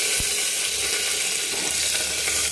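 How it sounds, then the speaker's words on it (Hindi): Garlic and chili hit hot oil in a pan for a dal tadka, giving a loud, dense, continuous sizzle with no pauses throughout. "अब लहसुन मिर्चा को डाल देती हूँ।"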